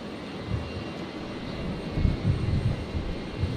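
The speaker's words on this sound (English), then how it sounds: "it's a little Cessna Citation, so it's not very big" A small Cessna Citation business jet at Brisbane airport, a distant, fairly steady engine rumble and hiss with some uneven low swells in the latter half.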